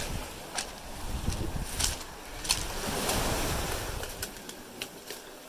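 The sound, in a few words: water waves by an abandoned quarry shore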